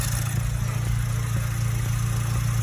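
A Mazdaspeed 3 engine runs steadily just after new Corksport injector seals and injectors go in. A close, constant idle drone holds even throughout.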